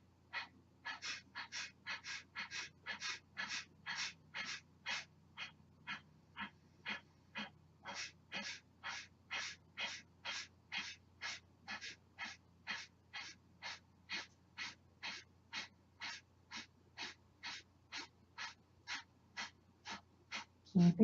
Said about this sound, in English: Breath of fire. Here we go. Kapalabhati.